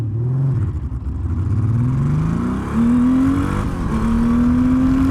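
A Honda Valkyrie Rune motorcycle launches hard from a standstill, its engine note climbing through rising revs, dipping briefly at a gear change, then pulling up again, loud and close.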